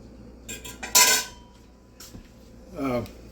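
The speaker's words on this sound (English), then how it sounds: "I'm going to stir that bacon down into the beans a little bit here, just like this" A spoon clinks and scrapes against the metal pot of an Instant Pot while bacon is stirred into pinto beans, a few sharp bright clanks and rattles in a quiet kitchen.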